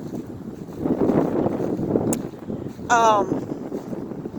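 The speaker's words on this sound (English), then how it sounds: "Oh my God, the wind." Cold wind blows outdoors, buffeting the microphone in a steady low rumble that swells and dips, with a brief high-pitched vocal exclamation partway through.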